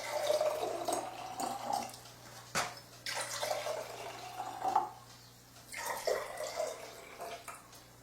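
Kangen water pours and splashes into bottles in uneven bursts with short pauses between, close by and moderately quiet over a faint hum.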